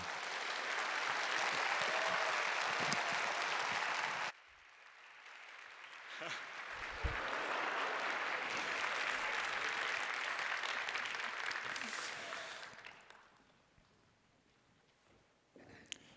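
Church congregation at a young adults' worship service applauding to welcome the pastor, sustained clapping for about four seconds, a short dip, then a second long stretch of applause that tapers into quiet near the end.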